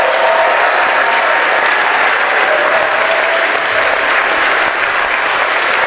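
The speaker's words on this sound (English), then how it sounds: "clapping." Dense, steady applause from a large audience at a school award ceremony in Tumkur, filling the hall continuously and loudly from start to end without a break.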